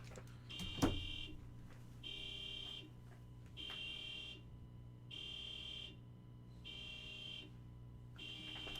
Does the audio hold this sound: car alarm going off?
yes